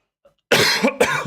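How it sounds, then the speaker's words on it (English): Two sharp, close coughs in quick succession after a brief silence, loud and harsh. "if you do hear coughing, just please pardon it"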